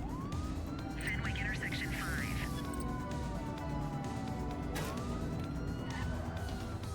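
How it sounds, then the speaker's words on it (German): Police car siren in the video game The Precinct, a wailing tone sweeping up and down over steady engine and traffic noise, with a brief warbling yelp, loud and continuous. "Boah, dieses Polizeiauto."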